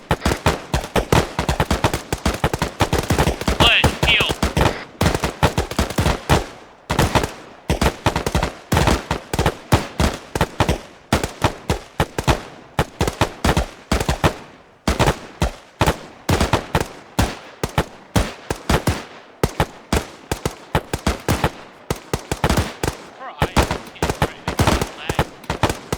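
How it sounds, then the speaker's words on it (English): Gunfire rings out during a shooting training drill on the range, sharp, loud shots fired in rapid strings and irregular volleys by several shooters over about twenty-six seconds, with short pauses between bursts. "3, 2, 1, commence fire"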